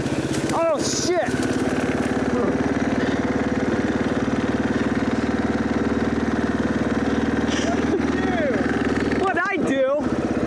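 Two-stroke motorbike engine running steadily at close range, with a quad nearby, revving in sharp bursts near the start and end over a constant droning idle, while people talk and shout over it.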